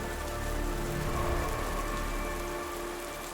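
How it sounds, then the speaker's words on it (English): Heavy rain pours steadily on a surface, a dense, constant hiss that stays level throughout with no other sounds. "The rain came down in sheets, its heavy sound masking the cacophony of the streets around her."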